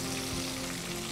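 Mustard seeds, cumin and curry leaves tempering in hot coconut oil give a steady close sizzle and crackle of frying, continuous and fairly quiet across the short moment.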